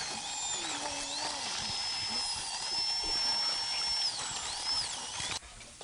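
High-pitched whining drill in a violent yakuza film scene, a shrill wavering tone held for several seconds over a gritty background, then cutting off abruptly near the end.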